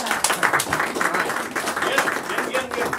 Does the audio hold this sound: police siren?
no